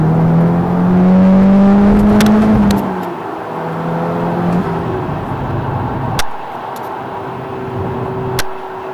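An Audi S3 engine, just repaired for a crank sensor fault, revs up loudly and close, rising then falling back to a smooth idle, with further short blips of the throttle.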